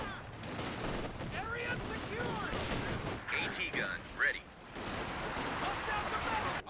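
Video game battle audio carries continuous rattling gunfire and bursts, with a louder grenade-like blast near the middle, all under steady commentary from a caster.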